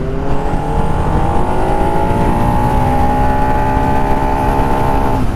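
A 13-year-old Ducati motorcycle engine revving up steadily toward its 8,000 rpm rev limiter, a loud, close, sustained rising engine tone with no talking.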